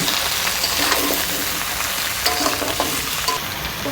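Kohlrabi and potatoes fry in a pan, giving a loud, dense, continuous sizzle with faint stirring knocks near the end and no voices.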